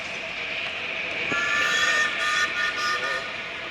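A miniature railway train rumbles past steadily, its whistle sounding in sustained tones partway through, with no talking.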